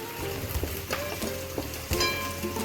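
Onion frying in hot oil in a pan for a Maharashtrian bhogichi bhaji with sesame, a steady crackling sizzle with bursts of spatter and occasional stirring clatter, close and continuous.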